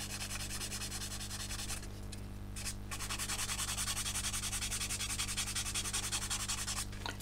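Steady, close scratchy rubbing of a blue abrasive sponge sanding aluminium foil-finished scale model surface, continuous strokes with a brief pause midway, no voices.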